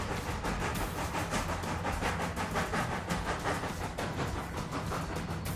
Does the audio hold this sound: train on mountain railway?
yes